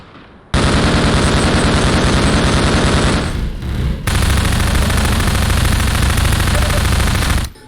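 Submachine gun fire from the Half-Life 2 video game: loud, rapid sustained automatic bursts, a long stream, a brief pause, then another long burst, with no talk.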